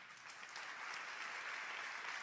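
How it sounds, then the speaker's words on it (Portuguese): A church congregation applauds during a sermon, a broad, even wash of many hands clapping together, fairly distant and steady throughout. "Dê um aplauso a Jesus."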